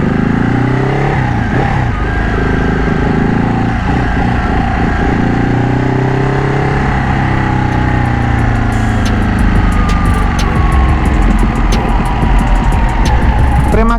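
A modified Ducati Panigale 1199 Tricolore motorcycle being ridden, its engine a steady loud drone with shifting pitch as revs rise and fall, some wind rush throughout and faint ticking near the end.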